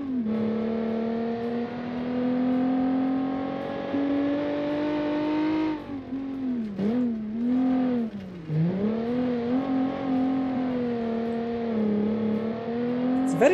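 A 1978 Pikes Peak race car engine, loud and close, holds a steady high drone and then revs up and down in several surging swells, with no voices.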